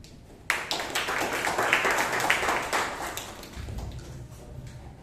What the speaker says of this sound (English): Let's hear it once more with a thunderous applause for both the Toastmaster today and the General Director